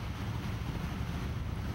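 Rough sea surf and strong wind buffeting the microphone near Darwin Arch, a rock arch off Darwin Island in the Galapagos, a steady loud roar of waves with no voices.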